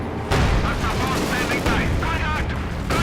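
Demolition charge blowing up in the World War II strategy game Company of Heroes 2, a loud sustained blast and rumble with crackling debris, heard under a commentator's voice in a 1v1 match.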